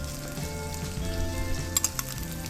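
Sliced onions and ginger sauté in a hot pan for Kapampangan-style batchoy, a steady close sizzle with a few sharp clicks of stirring near the end.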